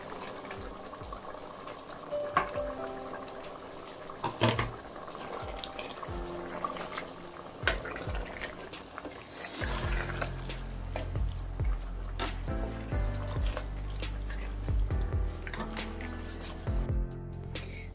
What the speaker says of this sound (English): so I'm going to add a little bit of water to it.